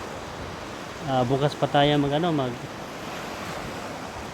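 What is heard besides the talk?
sea waves on a rough rising sea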